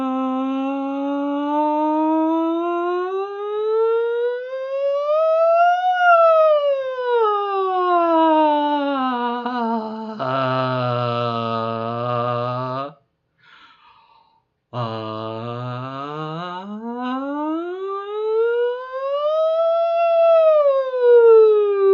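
A voice imitates an ambulance siren in vocal drills, a sustained wailing tone that glides up and down in slow sweeps, with a short break midway and a sudden drop before resuming, loud and alone.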